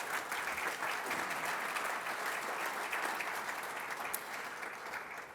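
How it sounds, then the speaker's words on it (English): An audience at a building dedication ceremony claps steadily for standing colleagues, a thick, even wash of many hands from start to finish, with no speech over it. "this time you can clap"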